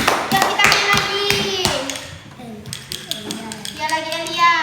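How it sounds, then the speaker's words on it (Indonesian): Children in a primary-school classroom clap together during an Islamic jurisprudence lesson, a quick burst of close, ragged hand claps mixed with children's voices and talk. "Tepuk tangan untuk jawaban Baby."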